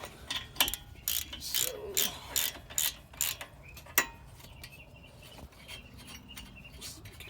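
Ratchet and socket loosening the front brake caliper bolts on a Kia Forte, heard as a run of quiet, close clicking bursts in uneven strokes, followed by faint handling noises.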